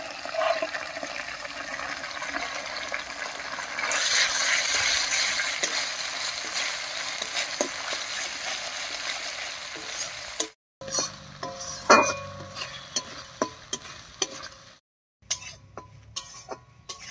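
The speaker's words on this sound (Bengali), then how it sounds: "সব মশলাগুলো দিয়ে একটু নাড়িয়ে নিয়েছি" Spice pastes of onion, ginger, cumin, coriander and dried chili fry in a pan while being stirred, a steady sizzle with scraping strokes of the spoon that turn into sparse, sharp clatters and taps.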